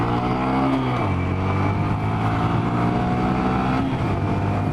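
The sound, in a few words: Honda Grom motorcycle accelerating at full throttle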